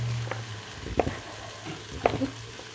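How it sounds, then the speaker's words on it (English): Diced butternut squash sizzles in a hot pan, a steady soft frying hiss broken by a couple of clacking stirs. "And that is sizzling pretty well."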